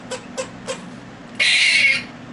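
Squirrel shrieking, played back from a recording: three short chirps in quick succession, then a longer harsh shrill squeal, heard clearly over a low hum with no talking.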